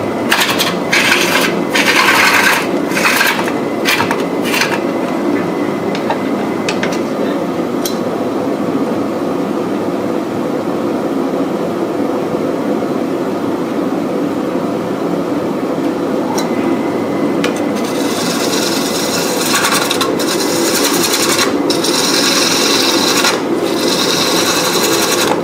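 Wooden box turning on a lathe while a gouge cuts the rough end, giving a continuous loud scraping, rasping hiss with sharp ticking clicks mixed in throughout.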